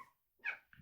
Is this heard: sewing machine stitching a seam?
no